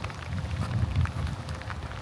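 Rain falling outdoors at a mountain flower farm in Atok, Benguet, a dense steady patter on surfaces, close and fairly loud throughout with no voices.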